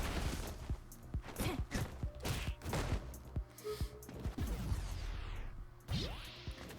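Falke's gunshot attacks in the fighting game Street Fighter V: a quick series of sharp, punchy shots and impacts, mixed with whooshes and crashes, comes in an irregular rhythm throughout a busy match.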